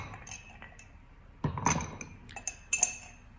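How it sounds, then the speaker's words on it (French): Ice cubes drop and clink into a cocktail glass during Armagnac cocktail preparation, making a few quiet, close glassy knocks and rattles after a soft start. "on va commencer par remplir le verre de glaçons"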